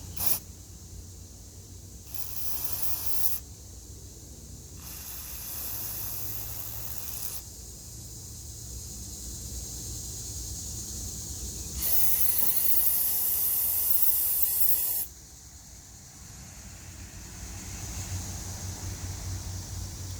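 Carburetor cleaner sprays in repeated hissing bursts through the tiny fuel ports of a Toro mower's Briggs carburetor, several short blasts and one long loud spray between quieter pauses, with no talking.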